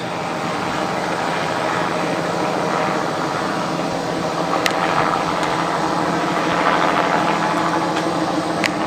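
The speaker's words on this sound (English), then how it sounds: "It's a police helicopter." A steady, droning engine rumble with a throbbing mechanical hum fills the air continuously as a police helicopter circles overhead at a distance.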